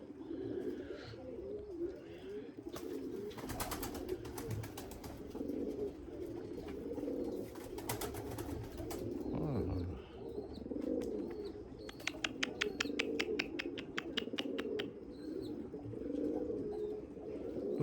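Limoni breeding pigeons in a loft coo softly and repeatedly, with occasional chirps and brief rustling, faint and at a moderate distance.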